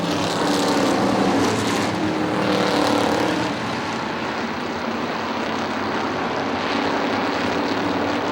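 Stock cars race around the Motordrome Speedway oval on the final lap in a battle for fourth place, a steady loud engine roar swelling and easing as cars pass, with no voices over it.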